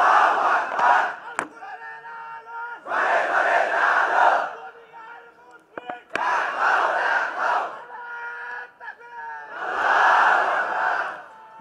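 A large gathering chants a religious takbir in unison, four loud surging shouts separated by short pauses, each rising and fading as a massed roar of voices.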